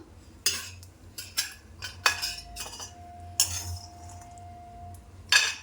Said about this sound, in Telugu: ఇలా బౌల్లోకి తీసేసుకుందాం పల్లీలన్నీ